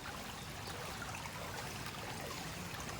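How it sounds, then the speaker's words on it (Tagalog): Steady rushing floodwater fills the whole clip, a dense, continuous roar of a strong current on a flooded street during a typhoon, with no voices, close and fairly loud. "lakas yung agos ng tubig"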